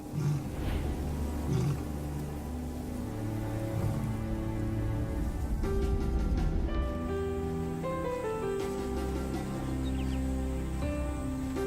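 A Botswana lion roars to announce its territory, a deep, resonant series of calls rolling on continuously at close range, with a pattering like rain in the background.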